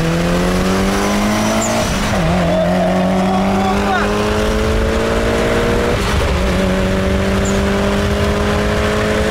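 Race car engines roar loudly as they accelerate, the pitch climbing through gear changes, with a brief tire squeal mixed into the continuous din.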